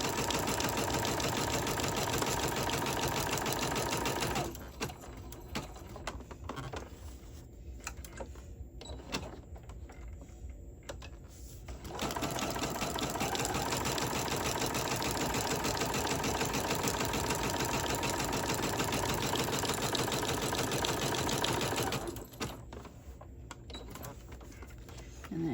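A sewing machine runs zigzag stitches around the edge of paper pages for a handmade embellishment book. It makes a steady, close mechanical whir with two short pauses, and a faint voice can be heard under it.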